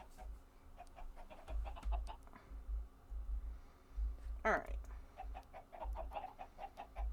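Chickens cluck in short repeated bursts close by, with one louder squawk near the middle, while a person talks over them.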